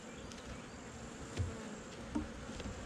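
Honeybees buzz steadily at a hive entrance, a dense continuous hum with a few individual bees passing close to the microphone, fairly quiet and with no talk.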